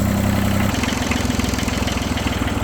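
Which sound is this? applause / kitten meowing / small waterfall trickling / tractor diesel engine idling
tractor diesel engine idling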